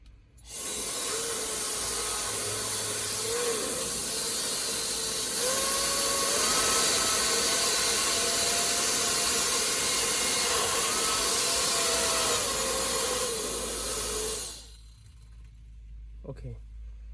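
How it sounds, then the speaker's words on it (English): A 2021 brushless hair dryer runs at high speed with a steady, loud, airy whir and high whine for about fourteen seconds, then switches off abruptly and winds down. "so it's a very new hair dryer and very fancy shape."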